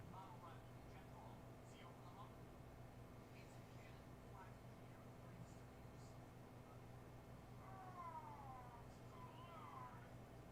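A cat meows a few times, the clearest wavering cries coming near the end, set against a steady background hiss with no talking heard.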